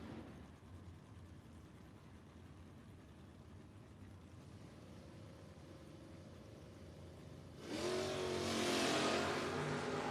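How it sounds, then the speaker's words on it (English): Drag race cars, including a 1978 Dodge Aspen, at a no-box 660 shootout, a distant engine drone building slowly before a louder, brighter surge of revving as they accelerate down the strip. "Good drag race here between Allenbach and Ketterer"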